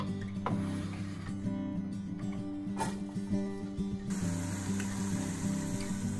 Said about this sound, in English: So we're gonna go in with all these onions, shallots, and celery to start.